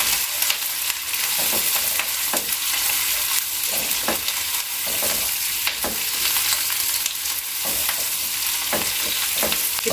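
Chicken stir-frying with vegetables in a hot pan for chicken chili, a steady loud sizzle broken by repeated sharp scrapes and clacks of stirring, with no talk.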